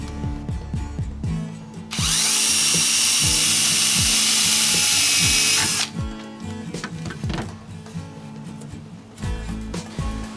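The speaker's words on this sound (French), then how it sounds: "je vais la percer donc avec une visseuse et un foret. Ici j'utilise un foret de 8 mm." A cordless drill fitted with an 8 mm bit whines steadily for about four seconds while boring through a piece of wood for a homemade Egyptian level, loud and close, with light tapping and handling knocks before and after.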